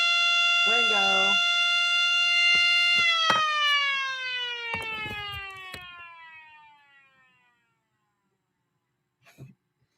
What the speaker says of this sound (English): So when I run it off the 5-volt 1-amp adapter, it sounds like a 2001